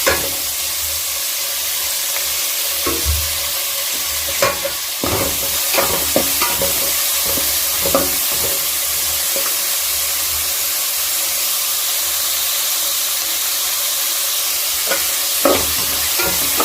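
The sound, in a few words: masala ingredients frying and being stirred in pan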